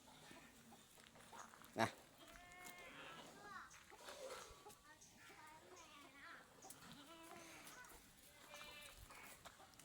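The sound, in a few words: goat kids bleating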